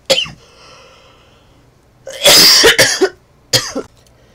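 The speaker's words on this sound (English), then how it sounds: "Couldn't control my coughing." Several harsh coughs burst out close by, a short one at the start, then a loud cluster, then two more after a pause.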